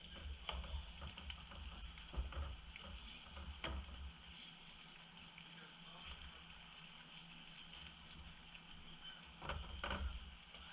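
Onions sautéing in a pan, a low continuous sizzle with intermittent scrapes and clatters of stirring, fairly faint and distant, with a voice talking over it.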